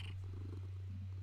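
A pet cat purrs softly and continuously nearby, a low quiet rumble sitting under a steady electrical hum.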